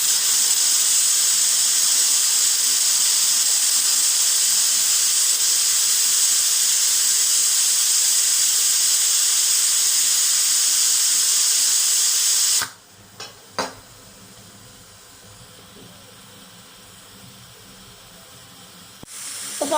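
A pressure cooker whistles while chicken gravy cooks, giving a long, steady, loud steam hiss for about twelve seconds. It cuts off abruptly, leaving near silence with a few faint clicks.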